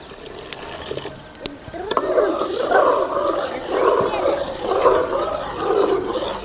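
A cottonseed milk mixture is poured into a cooking pot, making a steady, wet, splashing pour that begins about two seconds in and carries on close by to the end, over a faint background hum.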